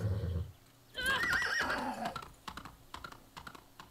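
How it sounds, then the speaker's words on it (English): A horse in the video game Far Cry 6 gives a loud, shrill whinny in the middle, mixed with rapid computer keyboard clicks and mouse taps that continue quietly afterward. "And I'm supposed to be getting that horse."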